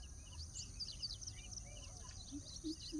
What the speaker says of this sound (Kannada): ಇಲ್ಲಿ ಇನಿಚುಗಳು ಮತ್ತು ಬೇರೆ ಬೇರೆ ಥರನಾದ ಗುಬ್ಬಿಗಳು ಎಲ್ಲ ಅದಾವೆ